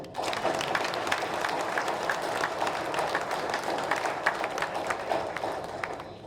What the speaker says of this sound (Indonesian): Tepuk tangan yang keras dong.